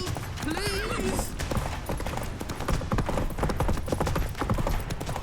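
Roach the horse gallops in The Witcher 3, rapid rhythmic hoofbeats pounding continuously and loud, with a brief whinny and a shouted voice near the start.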